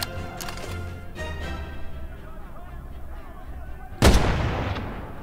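Gunfire in the WWII VR game Medal of Honor: Above and Beyond: a quick volley of sharp shots at the start, then a loud, close blast near the end trailing into a noisy decay, with battle ambience throughout.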